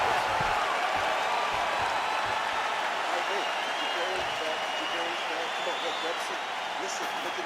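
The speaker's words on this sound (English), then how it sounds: "So the crowd voicing its appreciation after that round" Crowd applause and cheering from a UFC fight night video game on PS5, sounding as a broad, steady wash of arena noise after a round, with commentators talking over it throughout.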